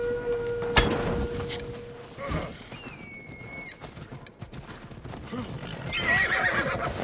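Horses of mounted guards in Assassin's Creed Odyssey whinny loudly and clop along, with one sharp neigh near the start and hooves and battle din continuing underneath.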